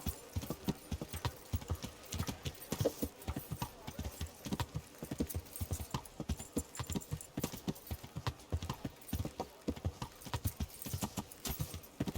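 Rapid, rhythmic hoof clip-clops of a horse moving at a steady trot in the video game Kingdom Come: Deliverance, continuous and fairly close throughout.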